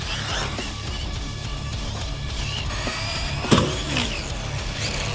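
A steady, close electric motor whine from a Spark XB6 RC car running at quarter throttle, constant in pitch, with a brief knock partway through; a front tire is coming apart.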